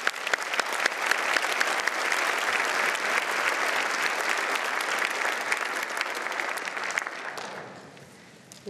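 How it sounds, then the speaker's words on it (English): A crowd at a scholarship awards ceremony applauds steadily for several seconds, a dense wash of clapping that fades out toward the end. "Let's give her a round of applause."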